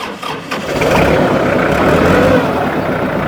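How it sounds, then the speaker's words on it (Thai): A used 2008 four-cylinder Japanese-made four-wheel-drive tractor with 4,329 hours cranks and fires up after a brief pause, then settles into a steady, close, rumbling idle. "เดี๋ยวฟังเสียงเครื่องยนต์นะครับ"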